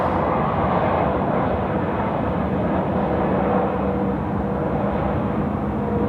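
A BAe 146 jet rolling through at Sydney Airport at night, giving a loud, steady broadband roar of engines that stays constant without a clear rise or fall.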